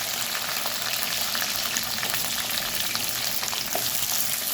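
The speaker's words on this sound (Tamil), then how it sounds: "எண்ணெய் காஞ்சிட்டு கடுகு சேர்த்துருக்காங்க, கருவேப்பிலை சேர்த்துருக்காங்க, அது கூடவே வெங்காயம் சேர்த்துருக்காங்க." Mustard seeds, curry leaves and onions fry in hot oil, a dense, steady sizzle with scattered crackles and pops throughout, close and loud with no voices.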